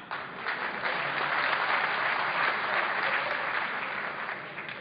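A seminar audience in Lahore breaks into sustained applause, a dense, even patter of many hands clapping that holds steady for several seconds before tapering slightly at the end.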